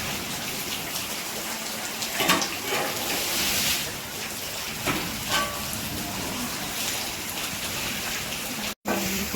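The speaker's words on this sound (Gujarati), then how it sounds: "વરસાદ જો ધીમે ધારે ચાલુ જ છે વરસે છે" Light, steady rain falls over a village cattle shed, a soft continuous patter with a few brief louder splashes and drips throughout, and no voices in the moment.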